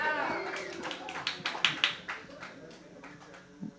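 A comedy club audience claps briefly, a short cluster of sharp close hand claps that fades quickly, with a voice talking over the start of it.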